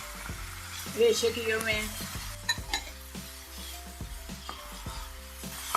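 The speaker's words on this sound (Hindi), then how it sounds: "चिकन भी इसमें डाल देंगे जो हमने" Shredded chicken drops into a hot frying pan and is stirred, with a burst of sizzling and repeated clinks and scrapes of a utensil against the pan while someone speaks over it.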